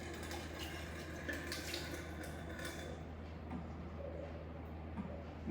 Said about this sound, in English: So we can rinse it with the tap water